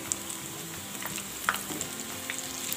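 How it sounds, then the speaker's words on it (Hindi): Moong dal mangodi fritters fry in hot oil with a steady close sizzle and occasional sharp pops and crackles, no voices over it. "दोनों तरफ से क्रिस्पी होने तक इन्हें हम फ्राई कर लेंगे।"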